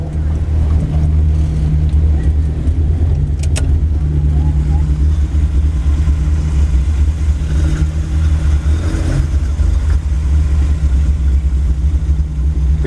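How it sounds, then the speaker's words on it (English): An 8-valve Mark 1 Golf idles and revs loudly at a drag racing strip at Killarney, a steady close engine drone with a brief higher burst partway through. "Okay, so I'm about to race a 8-valve Mark 1 Golf."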